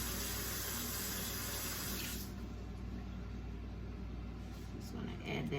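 Water poured for a recipe in a kitchen, a close, steady rush of splashing for about two seconds that drops to a softer hiss and trickle.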